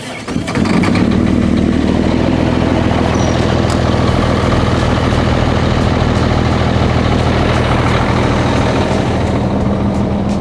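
A 2006 Peterbilt 379 truck with straight stacks cold starts, its engine catching almost at once and settling into a loud, rumbling, steady idle that fills the rest of the clip close by.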